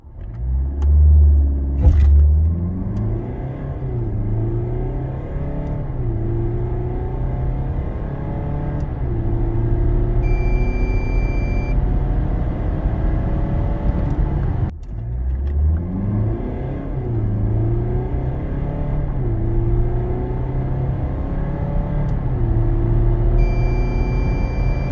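A Mercedes C 220 d 4MATIC All-Terrain diesel estate accelerates hard on wet asphalt in a 0-100 km/h run, its engine droning low and rising through gears, with a brief shift dip midway and a steady loud roar throughout.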